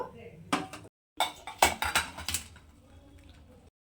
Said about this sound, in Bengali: এখন ডিমগুলোকে আমি ঢেলে নেব